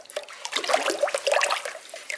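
Leftover pottery glaze being stirred around in a bucket, giving wet sloshing and swirling liquid sounds, close and moderately loud for a couple of seconds.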